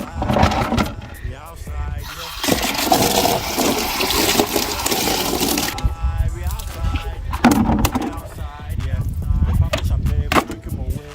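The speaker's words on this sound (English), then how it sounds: "Then it's time to wash the buckets and all the stuff over here." Water splashes and pours loudly while buckets and household items are washed outdoors during a Saturday morning routine in Ghana, with bursts of heavy splashing and sloshing and voices talking in between.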